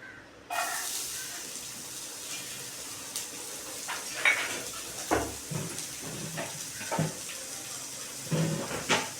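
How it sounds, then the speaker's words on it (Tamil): Chopped onions dropped into hot oil in a pan start a steady close sizzle that begins abruptly and continues throughout, with occasional stirring scrapes and clinks of a utensil against the pan. "அதில் ஆயில் சூடேறிந்தால் நம்ம கட் பண்ணி வச்சுருக்கிற வெங்காயத்தை உள்ளே போட்டுக்கலாம்."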